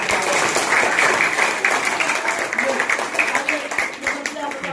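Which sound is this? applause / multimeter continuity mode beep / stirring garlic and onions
applause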